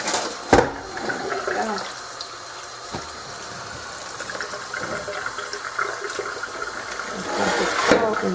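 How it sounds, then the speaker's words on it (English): Cold water runs from a tap in a steady, hissing stream, with a sharp knock near the start and another near the end, and a swell of rushing water toward the close. "Okay, so my cold water's on."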